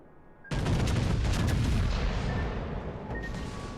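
Warship main guns firing in the naval game World of Warships: Legends, one sudden heavy booming salvo that rumbles on and slowly fades, loud and close.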